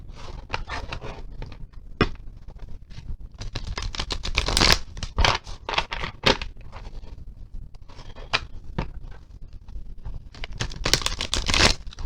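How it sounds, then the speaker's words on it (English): A thick tarot deck is shuffled by hand in repeated bursts of papery slapping and riffling, close up with brief pauses between passes and no talk. "Deck is difficult for me to shuffle. It's so thick."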